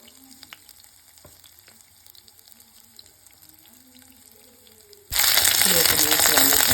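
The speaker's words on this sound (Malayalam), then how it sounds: "ചുമന്നുള്ളി മൂത്ത് വരുമ്പോൾ അതിലേക്ക് നമുക്ക് കടുക് ഇട്ട് കൊടുക്കാം." Shallots and mustard seeds hit hot oil for a thoren of green beans, bursting into a loud, close, steady sizzle after a quiet stretch of faint kitchen noise.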